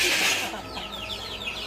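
Chickens and a white rooster with green legs on a poultry farm in Ammapettai, Salem, give soft nearby clucks after a brief hissing rustle, with low background noise.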